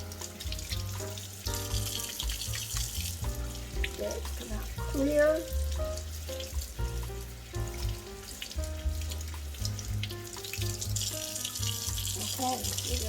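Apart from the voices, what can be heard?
water running from tap while washing makeup brush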